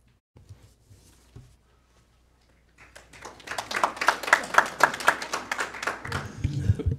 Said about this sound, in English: It was a reluctant applause.